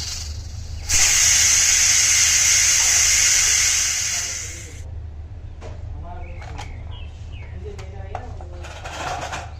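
A loud, sharp burst of hissing steam from a pressure cooker of turnip and chicken lasts several seconds, then cuts off, followed by quieter clinks and faint background noise.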